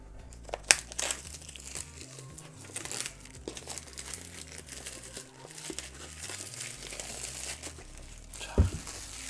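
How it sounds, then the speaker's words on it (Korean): Plastic vinyl wrapping torn open from a Suunto Race watch box, close crinkling and crumpling with a few sharp tearing bursts, quiet and handled at arm's length, no talk. "비닐을 뜯었고요."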